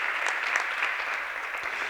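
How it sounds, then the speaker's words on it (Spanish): A crowd at a Porcelanosa interior design networking event in Castellón applauds a guest, with steady, dense clapping that holds at an even loudness for the full two seconds and has no talk over it. "Un fuerte aplauso para Damián"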